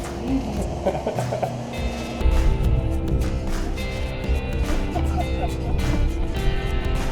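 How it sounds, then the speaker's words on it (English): A car drives along a mountain road in Puerto Rico, its engine hum and road rumble steady and close throughout, with faint voices and a few clicks and knocks riding over the drone. "Driving through the mountains."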